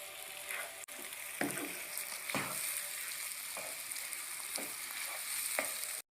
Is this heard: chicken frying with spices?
yes